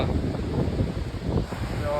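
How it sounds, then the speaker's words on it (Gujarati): Cool wind blowing at the seaside on Nagoa Beach in Diu, a steady broadband rush with mic buffeting that runs continuously, with faint voices in the background. "મસ્ત પવન આવે ઠંડો ઠંડો"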